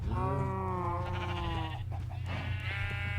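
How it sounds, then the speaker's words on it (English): Several sheep in Minecraft, a video game, bleat in drawn-out, wavering calls, one after another, fairly close and alone over a steady low hum. "we just have a whole bunch of sheep in our house"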